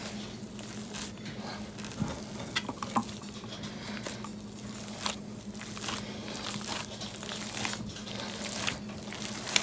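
Meatloaf ingredients are mixed by hand, giving soft repeated squishing and patting sounds that are fairly quiet and close, with no voices.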